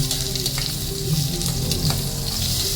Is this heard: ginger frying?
yes